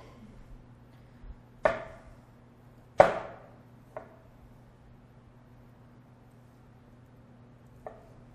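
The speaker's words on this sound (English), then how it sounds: "get our broccoli chopped up for the broccoli" Knife chopping broccoli on a cutting board for broccoli salad, a handful of sharp, separate chops spaced a second or more apart over a faint steady hum.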